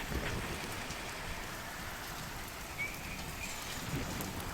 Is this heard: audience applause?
no